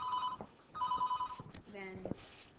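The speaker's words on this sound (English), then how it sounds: "Let me get the phone." A telephone ringing indoors in two repeated electronic bursts, with a person talking in the background.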